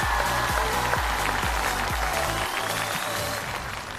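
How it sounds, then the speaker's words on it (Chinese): A stand-up comedy show audience applauds over a thumping music beat that pulses about twice a second, the clapping a dense, steady wash throughout. "掌声再次送给我们翟佳宁。"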